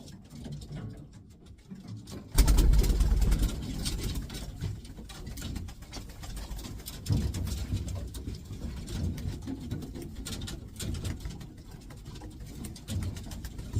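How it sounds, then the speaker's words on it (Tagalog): A pigeon being readied for breeding coos softly and low, with a murmuring rumble and light rustling nearby over a quiet room. "Isa mga kalapatids"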